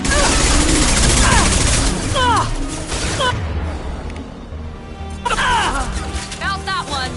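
Bursts of rapid gunfire from a firefight in Mass Effect Legendary Edition, loud volleys in two waves with a quieter lull between, mixed with game voices shouting over the shooting.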